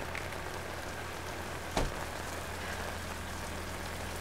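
Steady rain falls on a surface, a dense even hiss with a brief louder splash or knock partway through and no voices.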